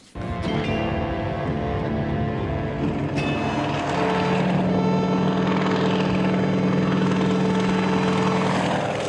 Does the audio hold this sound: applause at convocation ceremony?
no